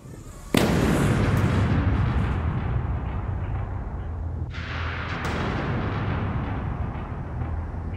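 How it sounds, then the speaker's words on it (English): A cannon fires at a Waterloo battle re-enactment, one sudden loud blast followed by a long rumbling roar that lingers, with a second burst of crackle midway through. "Bombardier Nathaniel Almy, was finally given the signal to fire. OK, firing in 5, 4, 3, 2, 1."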